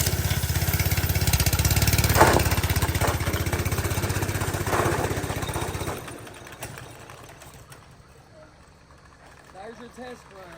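A Manco 126cc Dominator go-kart engine runs on a test run, roaring loud and steady for about six seconds before it cuts out and falls quiet, leaving faint background sounds.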